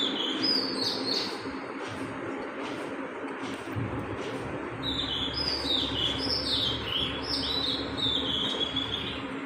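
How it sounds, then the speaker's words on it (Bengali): Several birds sing and chirp from a tree in the morning, with bright repeated calls clustering in bursts over a steady background hum of surroundings, moderately close, no talking. "দেখেন কি সুন্দর গাছে পাখি ডাকতেছে বসে বসে"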